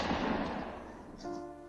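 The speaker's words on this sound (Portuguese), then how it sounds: "Então eles começaram a disparar." A gunfire sound effect in a narrated story: a burst of loud, crackling blasts that fades away, followed by a short ringing tail, all at a moderate level.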